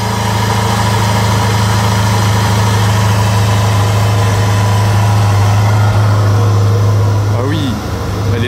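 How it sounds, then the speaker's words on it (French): A Ferrari F8 with a Novitec exhaust idles with a steady, loud low rumble, a raw straight-pipe drone holding throughout, with a brief shift near the end. "elle est totalement échappement libre en fait"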